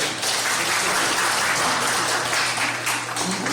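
Audience applause fills a Korean anniversary festival hall inside the National Assembly members' building, a dense, steady wash of many hands clapping throughout, loud and continuous with no voices over it.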